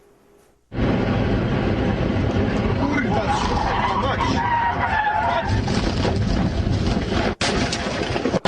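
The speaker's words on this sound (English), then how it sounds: "Coming in at number 3 today is a video of a car wreck in Poland" A car skids during a wreck on a road in Poland, caught by a dashboard camera: loud, sustained tire-and-engine noise fills nearly the whole stretch after a brief quiet start, with a sharp dropout near the end.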